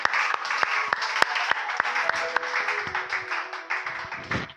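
Church congregation applauding during a Sunday service, a lively burst of many hands clapping with some sharp individual claps standing out, fairly close and sustained throughout.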